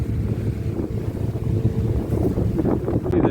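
Steady low rumble of a ferry engine between Ullapool and Stornoway, with gusting wind buffeting the microphone at sea, continuous and fairly loud throughout.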